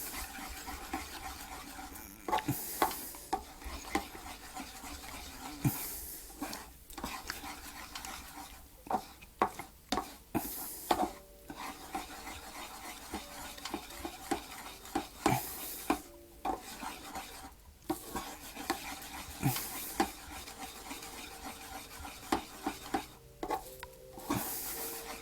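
Spring onions fry in a pan for Parsi scrambled eggs while a utensil stirs them, making repeated scrapes and clatters against the pan over a faint sizzle, with pauses between bursts.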